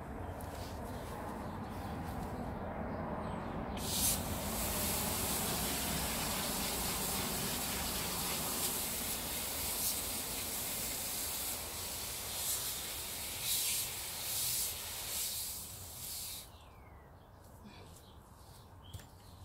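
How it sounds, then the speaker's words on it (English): Water gushes steadily from a garden hose as it rinses an acrylic pour on a record, a continuous hissing spray that runs for most of the stretch before cutting off near the end. "I've got the hose here,"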